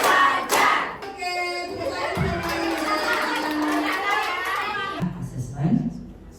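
A class of children claps in a counted rhythm at a workshop, and thumping claps come in short patterned bursts. Young voices chant loudly through most of it, and a crowd murmur sits underneath.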